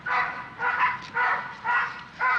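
A dog barks aggressively in five evenly spaced, harsh bursts, fairly close and loud, with short gaps between each bark.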